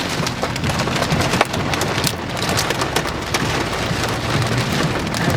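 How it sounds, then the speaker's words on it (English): Hail and heavy rain pelt a car during a Kansas City metro storm, a dense, constant drumming roar with sharper individual impacts scattered throughout and no talking. "Alright, we're seeing continued hail."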